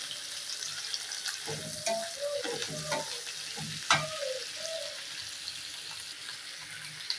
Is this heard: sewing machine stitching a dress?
no